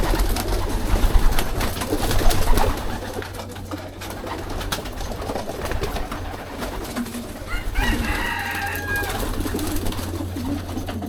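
Racing pigeons cooing and fluttering in a loft during flight training, soft repeated coos and wingbeat rustles over a steady background hum, with occasional louder bursts of activity.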